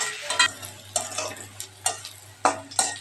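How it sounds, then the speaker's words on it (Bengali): Chopped onion and green chilli fry in a pan for a fish dish, with a steady close sizzle broken by about six sharp, rhythmic scrapes of a spatula stirring against the pan. "এখন আমি পেঁয়াজ দিয়ে দিচ্ছি, কাঁচামরিচ। এখন আমি এটা একটু ভেজে নেব।"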